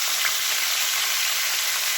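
Cauliflower, first steamed with salt and drained, fries in a pan with a bright, even sizzle that stays steady and close throughout.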